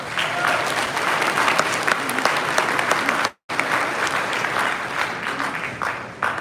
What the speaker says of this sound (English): Round of applause for Patty